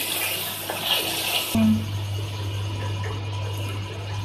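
Water poured into a pan of frying chicken meat, a steady hissing and splashing that shifts to a lower steady sizzle midway, close and continuous with no talk.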